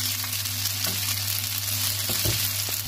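Butter sizzles steadily in a hot pan while pasta is being made, a constant close frying hiss with a few small pops and stirring scrapes.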